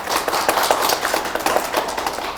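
A group of elementary school children applaud their teacher at the close of a Saturday arts class, a dense, steady patter of many small hands clapping together for a couple of seconds.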